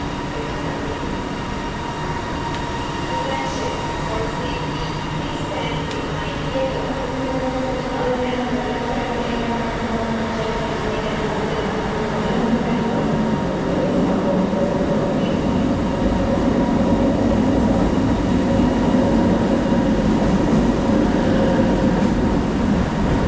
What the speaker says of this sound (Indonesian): Sudah lama saya nggak naik LRT ini, lama sekali.